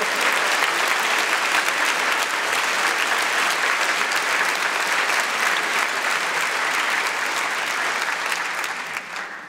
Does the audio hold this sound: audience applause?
yes